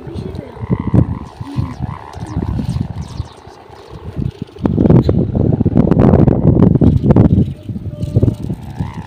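Strong wind gusts roar across an outdoor microphone, a steady low rumble that swells much louder in the second half, with people talking underneath.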